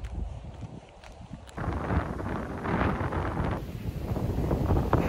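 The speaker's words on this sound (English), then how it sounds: "It's so windy out here." Wind buffets the microphone in gusty, rumbling waves that grow stronger after a quieter start, with no talking.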